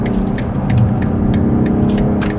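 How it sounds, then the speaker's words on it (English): BMW 8-Series Gran Coupé accelerating hard to overtake on an open road, a steady loud engine drone with road and wind noise throughout, rising slightly in the middle. "Let's see if we can overtake here in a safe way"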